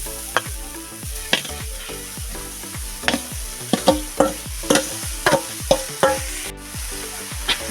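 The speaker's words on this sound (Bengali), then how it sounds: "কড়াতে আমি কোনো তেল দিচ্ছি না এমনি কড়াতেই আমি শাকটা চাপিয়ে দেবো" Chopped greens dry-fried in a kadai with no oil, stirred with a steady run of sharp spatula scrapes and clacks against the pan over a soft, continuous hiss, close and fairly loud, with no talking.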